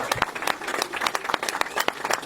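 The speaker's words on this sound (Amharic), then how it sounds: "አጨብጭቡልኝ በእናታችሁ።" Audience applause at an emotional car handover event in Ethiopia, a dense crackle of many hands clapping steadily throughout, fairly close and loud.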